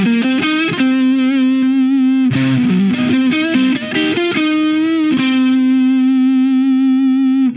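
Electric guitar played through an Antares overdrive pedal into a CABM+ cab simulator, a loud, sustained overdriven tone with held notes and a busier run of quicker picked notes in the middle, alone with no talking.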